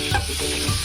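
Tomato and onion stirred in a hot frying pan for a green chicken dish, a steady low sizzle with a couple of soft scraping stirs, close and alone.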